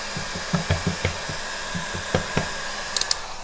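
A handheld hair dryer blows over freshly applied Dixie Belle paint on a furniture piece, giving a steady close whooshing roar with a few light taps and clicks on top.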